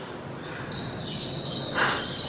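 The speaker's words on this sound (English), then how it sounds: "Do you hear the birds in here?" Birds chirp and tweet in short bright calls over a soft background hiss, fairly close, with one louder chirp near the end, around an art installation on Route 66.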